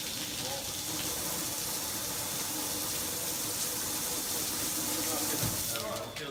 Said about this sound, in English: so we can really show the water coming out and dropping onto it